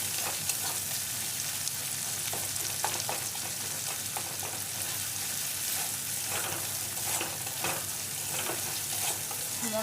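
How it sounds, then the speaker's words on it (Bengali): Hand-ground spice paste is stirred and fried in a pan while making egg chops, a dense, even sizzle with scattered scraping strokes of the spoon throughout. "তো চলো নেড়ে চেড়ে এটাকে একটু ভেজে নিই ভালো করে"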